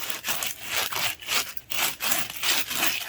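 Sandpaper is rubbed back and forth over the end of a homemade deep-drop fishing weight. Steady, rhythmic rasping strokes come about twice a second, close and fairly loud, with no voices.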